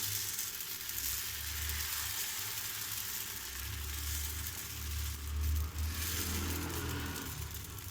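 Egg dosa batter sizzling on a hot pan, a steady close frying hiss that holds for the whole stretch with a low rumble underneath.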